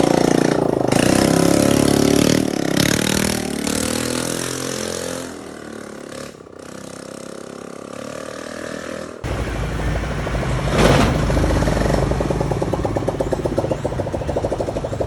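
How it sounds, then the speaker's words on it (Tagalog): A restored Yamaha motorcycle engine runs without its exhaust pipe, starting and idling loudly, then revving harder in a raw, unmuffled roar heard close up and alone. "Medyo maingay nga lang dahil hindi pa natin nakakabitan ng bagong tambutso."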